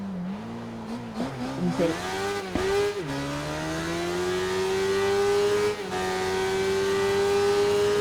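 Racing motorcycle engine in the Ride 3 video game, revving up and dropping through a few quick gear changes before holding a long rising howl under throttle; a voice briefly speaks near the start.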